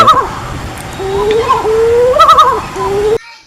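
A mottled wood owl's wavering, tremulous call answering its mate rises and falls in pitch for several seconds, loud and close, then cuts off abruptly.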